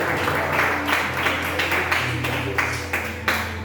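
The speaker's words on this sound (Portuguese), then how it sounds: "aplaude forte o nome dele" A congregation at a worship service held in a garage claps loudly, a dense and sustained wash of applause with recurring louder bursts, filling the room throughout with a faint low hum beneath it.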